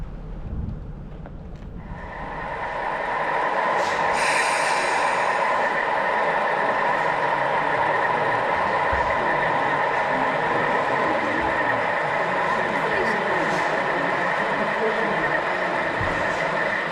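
Model railway trains run at a model railway event, including a BR green Class 10 shunting locomotive, producing a steady mechanical rolling hum that rises after a couple of seconds and holds, with faint background noise.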